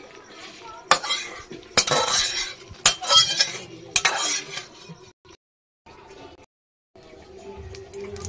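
Cooked bottle gourd being poured from a pan into a bowl, with a metal spoon scraping and clinking against the pan in several close, loud bursts before quieter scraping and pauses.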